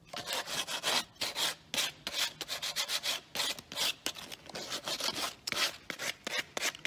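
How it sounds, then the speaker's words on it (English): Close, rhythmic rasping of sandpaper on a wooden moulding, in quick back-and-forth strokes with short pauses, and no voices. "I'm just going to sand round the corner."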